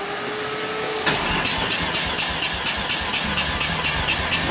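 A 13B rotary engine cranks over on the starter during a compression test, a near, steady train of rhythmic pulses starting abruptly after a second of quiet and continuing evenly to the end.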